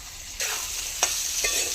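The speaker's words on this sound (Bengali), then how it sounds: "নাড়িয়ে চাড়িয়ে মিশিয়ে নিচ্ছি।" Potato, onion and green chilli fry in oil with a soft steady sizzle, broken by a few quick scraping stirs of a spatula, close and brief.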